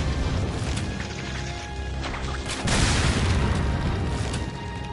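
Bow gun firing in the video game Resident Evil 4, sharp bursts and a heavier impact-like boom partway through over a dense, noisy game background.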